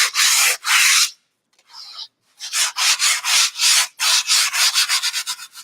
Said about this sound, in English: piece of sandpaper and just lightly go over it. Like you're dust sanding